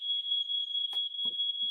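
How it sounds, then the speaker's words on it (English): A smoke alarm emits a continuous high-pitched shrill tone, loud and steady, with a few faint knocks and rustles underneath. "Smoke alarm going off."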